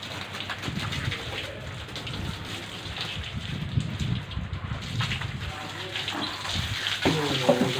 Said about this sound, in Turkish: Bakın nasıl geldi su aktı.